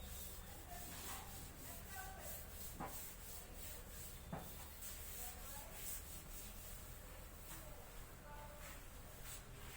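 Eraser rubbing across a classroom board during a grammar lesson, a faint, steady scraping made of repeated strokes over a constant background hiss.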